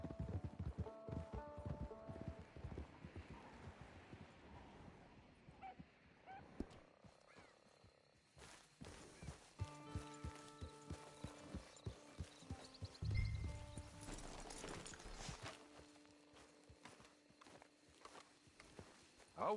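Horse hooves clip-clopping in Red Dead Redemption 2, a steady run of hoofbeats at moderate distance over an outdoor game soundscape with occasional animal calls, no talk.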